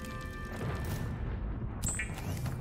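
Thunder from lightning in the video game Subnautica: Below Zero rolls as a deep, loud boom with broad low rumble, followed by a brief higher tone near the end.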